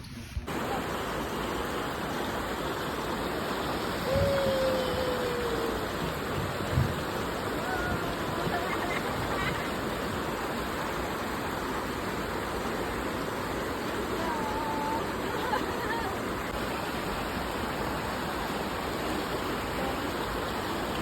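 Steady rushing water flows continuously at Mayon Skydrive in Albay, Philippines, a broad even roar like a stream or cascade, with a brief faint voice partway through.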